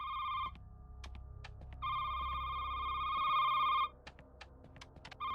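Telephone ringing in an indie horror video game: two loud electronic ring bursts with a short gap, then a brief start of a third, over a low rumbling game ambience.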